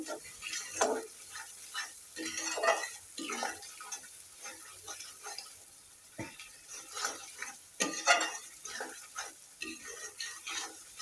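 Spiced masala paste for a shrimp bhuna being stirred and fried in oil in a pan, with intermittent scraping and stirring strokes over a soft sizzle, close and moderately loud, no talking.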